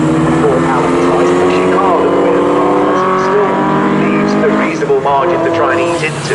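Race cars in a Mintex Classic K Series race at Snetterton roar across the start-finish line, engines revving loudly and continuously as they pass close by, with a commentator talking over them throughout.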